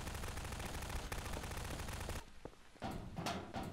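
Rapid automatic gunfire in Garry's Mod Prop Hunt, a dense continuous burst for about two seconds, then a pause and a few more shots, loud and close.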